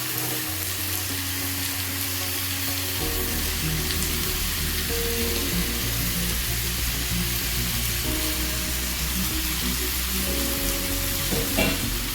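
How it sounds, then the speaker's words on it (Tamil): Squid pieces frying in a pan over a medium stove with sautéed onions, a loud, steady close sizzle with crackling spatter running continuously and occasional stirring scrapes. "ஸ்டவ் மீடியமில் தான் இருக்குது கனவா மீன் போட்டுக்கலாம்"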